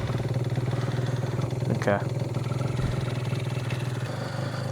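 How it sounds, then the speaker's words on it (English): A Stage6-tuned Yamaha BWS 70 scooter engine runs steadily up close with a raspy, loud intake drone and a fast pulsing beat, while a voice talks over it. "That air intake makes a lot of noise, not gonna lie"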